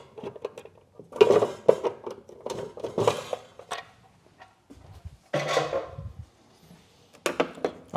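A screwdriver prises and unscrews the lid of a light fitting during safe isolation work, producing a series of close, irregular plastic clicks, scrapes and taps with short pauses between them.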